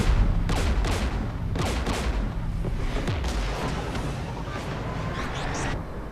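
Heavy battle din in Mass Effect 3 during an assault on a Geth jamming tower, a continuous roar of distant blasts and rolling gunfire with repeated booming impacts and no voices.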